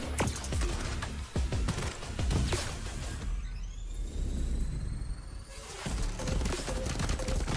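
Dense rattling gunfire in a video game trailer, volleys layered over rumbling music and effects, fading briefly in the middle before the shooting surges back loud.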